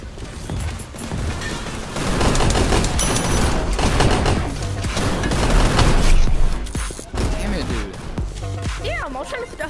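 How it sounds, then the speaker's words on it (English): Rapid gunfire from the video game Gun Raiders rattles loudly and almost without pause, with bursts and booms, while a player talks excitedly over it. "Where am I getting shot from?"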